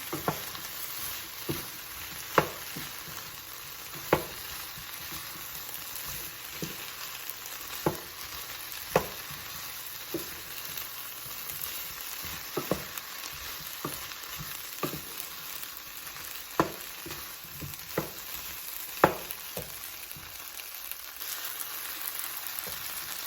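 Garlic cloves frying in a pan for a cauliflower vegetable curry, a steady soft sizzle broken by regular clacks and scrapes of a utensil stirring against the pan, close and without voices.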